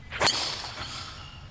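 A world long drive champion's golf driver strikes the ball on a downhill dogleg hole at Old Hickory Golf Club, one sharp, loud crack of the clubface with a brief whoosh after it, followed by quiet outdoor ambience.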